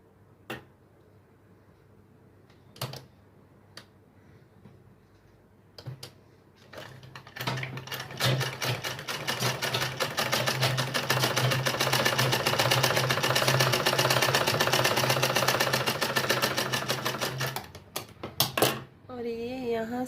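A sewing machine stitches lace onto a piece for a lehenga latkan, with a few scattered clicks and taps before a sustained, close, whirring run of rapid stitching that stops abruptly near the end.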